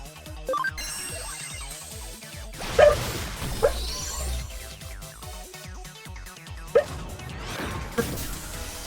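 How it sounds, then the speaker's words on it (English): A small pet dog barks sporadically indoors, a few sharp yaps standing out over a steady background of game music and household noise, with quiet stretches between the barks. "She's now barking randomly into my home."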